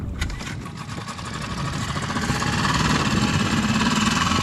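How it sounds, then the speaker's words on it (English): A Mariner 5 horsepower single-cylinder outboard engine on a small inflatable boat runs steadily on the water, its close, buzzing drone rising slightly in loudness and holding a constant pitch throughout, with no talk. "This is the Mariner 5 horsepower. It's a single cylinder, the same engine as the 4, 5 and 6 horsepower varieties"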